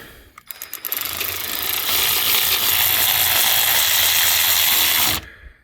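A power ratchet runs on the thermostat housing bolts of a Peterbilt 579 with a PACCAR MX13 engine: a few short clicks, then about four seconds of loud, steady, close-up whirring that cuts off abruptly.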